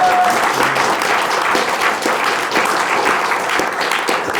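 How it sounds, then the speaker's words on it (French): A studio audience applauds a guest on a French talk show, steady dense clapping sustained loudly throughout without a break. "On peut l'applaudir bien fort."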